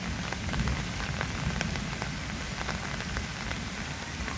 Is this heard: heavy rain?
yes